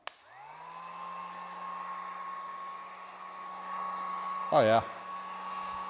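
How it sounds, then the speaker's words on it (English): A heat gun runs with a steady blowing roar and a tonal motor hum over it. A brief clatter of handling comes near the end, and a person speaks quietly once. "Let me get the heat gun."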